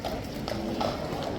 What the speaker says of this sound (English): now we've got police horses